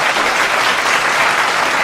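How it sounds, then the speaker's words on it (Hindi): Loud, sustained applause fills the hall from the audience at a Hindi comedy poetry gathering, a dense and even roar of clapping with no pauses. "एक बार जोरदार ताली बजाइए"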